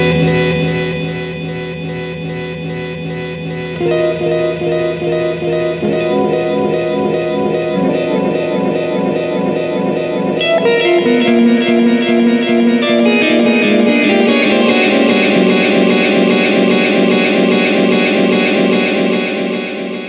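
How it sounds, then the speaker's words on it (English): Electric guitar played through a Blackstar Amped 2 amplifier and effects pedal, notes held indefinitely by the delay hold function, building into a dense, sustained, echoing wash of layered tones that grows louder and fuller over twenty seconds. "If you hold the delay button down after you've struck a note, it'll hold the delay on that indefinitely"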